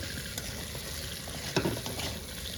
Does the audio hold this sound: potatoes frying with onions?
yes